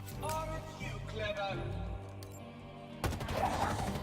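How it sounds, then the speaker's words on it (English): A shock rifle fires in a Halo video game battle against Chak 'Lok, with sharp bursts of gunfire and a louder burst near the end under game background noise. "I'm gonna switch this out for the shock rifle."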